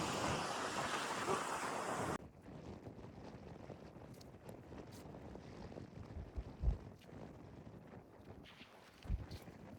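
Sea waves wash onto the shore at a fishing spot, opening with a loud rush of surf and wind, then easing into a softer, steady wash with occasional low thumps.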